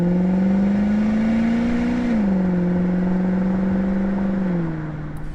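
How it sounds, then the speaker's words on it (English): Infiniti M45 V8 engine revving up close, a loud steady drone that holds high, dips slightly midway and eases off at the end, with no talking. "I'm really loving that V8 sound though."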